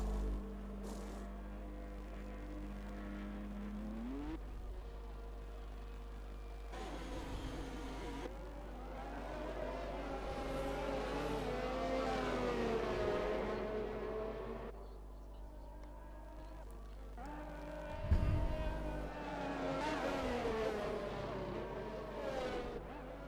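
Race cars in a racing video game drone along steadily, with engine tones rising and falling as they run laps and one pulls into the pits; the engines stay fairly quiet and even, with one brief sharper rev near the end.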